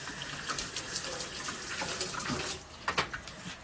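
Running tap water splashing steadily as cherry tomatoes are rinsed at a kitchen sink, a continuous close hiss with small bursts of splashing near the end.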